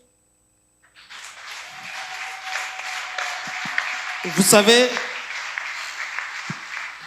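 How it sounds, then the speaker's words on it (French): Modest applause from an audience at a book launch honouring author Pastor Shekinah Muyumba, a steady patter that runs for several seconds beneath someone talking, with a louder burst of voices partway through. "sous vos applaudissements les plus chaleureux"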